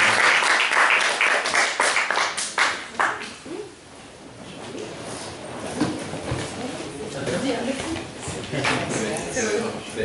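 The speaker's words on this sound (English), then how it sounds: "Let's please give her a warm round of applause." An audience at a book talk in a New York shop gives a warm round of applause that is loud at first, then fades within a few seconds as a voice starts speaking.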